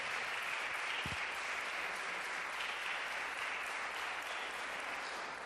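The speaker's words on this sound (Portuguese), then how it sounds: "Aplaude o Espírito Santo de Deus." A church congregation applauds during a missionary's testimony: steady, loud, sustained clapping from a large crowd that fills the whole stretch with no talk.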